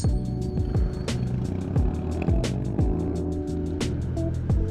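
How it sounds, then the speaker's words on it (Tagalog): Loud motorcycle exhaust from a motovlog ride through a residential area, a steady rumbling drone with rising and falling revs and repeated gear-shift sweeps, close and continuous with no talk. "Grabe yung tunog ng muffler nito."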